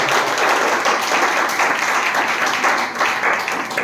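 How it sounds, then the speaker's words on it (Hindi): Church congregation clapping hands hard during a sermon, a dense, sustained wash of applause from many people that stays loud and even throughout. "ताकत हो उतना ताली बजा के।"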